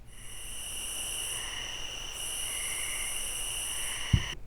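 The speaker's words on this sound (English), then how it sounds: "you will hear some crickets going and some nighttime ambience" Nighttime ambience sample of crickets, several steady high chirping trills layered over a soft hiss, even and continuous, with a brief low thump near the end.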